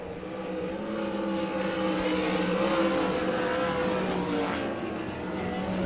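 Race cars at Devil's Bowl Speedway during the Spring Nationals, a steady sustained engine drone with tonal bands heard from a distance, holding fairly even loudness throughout with no voices.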